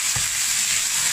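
Pig blood pieces stir-fried in hot oil with shredded ginger and sliced garlic, a steady close sizzle with one soft thud of the spatula near the start, no voices.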